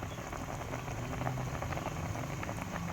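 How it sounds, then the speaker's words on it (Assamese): Fish simmering with lemon and tomato slices in a pot produces a steady, close bubbling boil with a dense patter of pops throughout, and no voices. "এতিয়া পূৰা উতলিবলৈ দিছোঁ"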